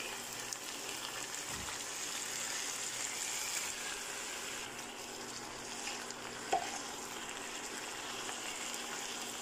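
Pork ribs and tofu cooking in taosi sauce in a pan, stirred to a soft, continuous sizzle heard fairly faintly at a distance, with one brief clink of a utensil partway through.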